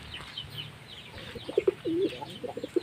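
Pigeons in a pigeon loft give a few low coos and short throaty calls, close but modest, over faint background chirping and ambient noise.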